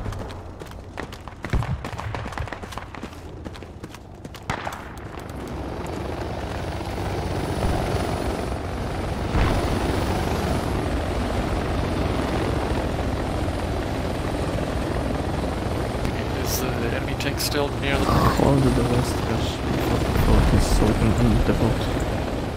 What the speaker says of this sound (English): They just landed a trans chopper right next to the eastern cache.